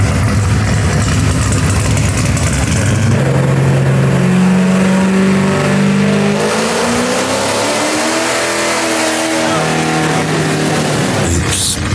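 A 700hp LS-powered BMW M3 roars on a dyno, holding a loud steady tone before sweeping up through a long rev climb, then cutting back toward idle.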